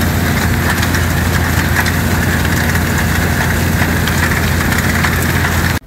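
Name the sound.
ag bagger rotor turning and packing chopped corn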